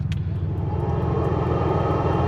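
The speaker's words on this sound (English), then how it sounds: "Turn on the air conditioning." The air conditioning blower in a 1987 Porsche 911 Carrera roars loudly and steadily from inside the cabin, a dense rushing drone over a low engine rumble, with faint ticking along the top.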